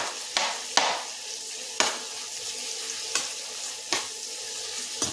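Onions with a pinch of salt cooking in a pan for a Bengali country chicken curry, a soft continuous sizzle broken by several sharp scrapes and knocks of a spoon stirring at irregular intervals, close and fairly quiet.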